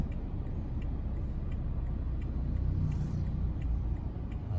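Low, steady engine rumble of a large truck close by, a constant heavy drone that swells slightly midway.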